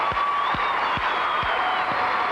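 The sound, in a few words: standing ovation applause at gymnastics arena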